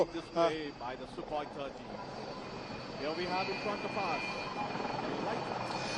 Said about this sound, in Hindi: सुखोई 30 जो लड़ाकू विमान है वो यहाँ पर फ्लाई पास के बाद इस वक्त नीचे यहाँ इस यलहंका एयरबेस पर हमें लैंडिंग करते हुए नजर आ रहा है।